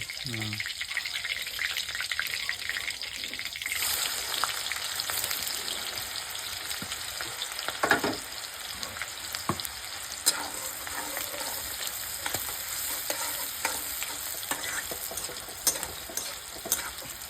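Marathwada-style chicken fries in a pan, a steady close sizzle with occasional stirring scrapes and clinks that carries on throughout, with a voice speaking briefly at the start.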